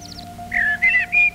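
A parrot with a bald forehead gives three short, bright whistled calls in quick succession over a steady low hum, with no voices.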